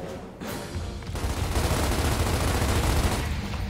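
Gunfire from Gears of War Ultimate Edition rattles in a dense, continuous burst that starts abruptly after a brief quieter moment and keeps going at moderate distance.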